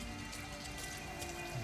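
Rain in the video game Detroit: Become Human, a steady close patter of drops on surfaces with a constant low hum beneath.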